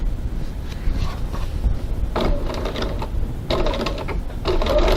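A sewing machine with a Teflon or roller foot stitches faux leather close to a seam at a 3.2 stitch length, giving a steady mechanical whir and rapid rattling runs that start, pause and restart, close and alone.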